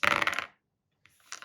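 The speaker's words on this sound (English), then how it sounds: "He's only rolling 3 dice for this." A small handful of board game dice clatters briefly across a hard surface with a short sharp rattle, then silence, then a faint second settling clatter, close and quiet.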